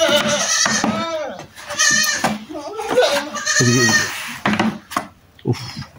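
Goats on a goat farm bleat close and loud in several wavering calls, with quieter gaps between them and people talking nearby.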